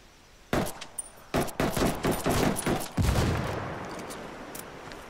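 Bursts of gunfire in the video game Ghost Recon Wildlands Ghost War: a sharp opening shot, then a rapid string of automatic rounds followed by a heavy blast that fades into a decaying rumble.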